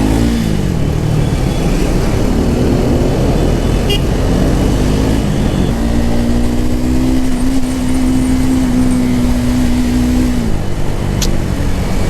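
Triumph Speed 400 motorcycle engine, ride-by-wire, revving sharply as the throttle is blipped, then holding a steady high drone before dropping back to a rumbling idle, loud and close with no talking.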